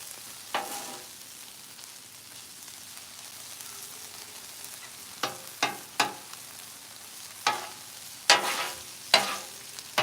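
Meat frying in a pan, stirred with an utensil: a low, soft sizzle runs underneath, and in the second half come a series of sharp scraping and clanking strokes at irregular intervals, with no voices.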